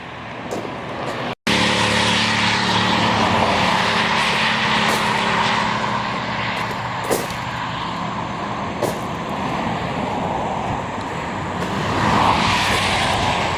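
Busy Route 7 traffic near Snickers Gap, a continuous loud roar of passing vehicles with tire and engine noise swelling and fading, after a brief cut near the start.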